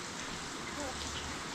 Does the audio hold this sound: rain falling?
yes